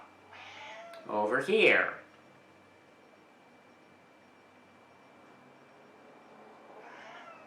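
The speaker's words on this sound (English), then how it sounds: "apparently my cat wants to say hi" A house cat meows loudly and close by in a short burst, then near silence with faint room hiss; a person speaks briefly over the sound.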